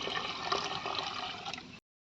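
Water is poured into a pot to cook black gram rice. A continuous splashing pour lasts almost two seconds, then stops abruptly into silence.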